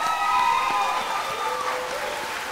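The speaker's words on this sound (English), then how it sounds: "Let's give a round of applause to Social Species." Applause from an audience at a film festival awards ceremony, a continuous wash of clapping under faint background tones, fairly distant and even in level.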